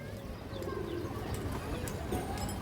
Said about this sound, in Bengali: এই দেখেন ফরাওয়ালা কবুতর খুব সুন্দর কবুতর